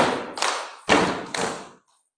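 A group of children clap their hands together in unison in a classroom, giving about four loud, thudding claps in a quick, uneven rhythm, followed by silence.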